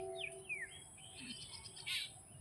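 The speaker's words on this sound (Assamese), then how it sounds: "চৰাইবিলাক ঘৰমুৱা হৈ আছে" Birds chirp and tweet at dusk as they return home to roost, several brief calls and sweeping whistles scattered through a faint, steady evening ambience, with a louder burst of twittering near the end.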